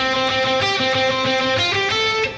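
Electric guitar playing a fast alternate-picked passage, a steady stream of clear, close single notes with quick even attacks and sustained tones, alone with no talking.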